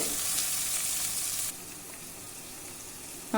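Soya chunk masala sizzling and being stirred in a pan, a steady frying hiss that drops abruptly quieter halfway through and continues softly.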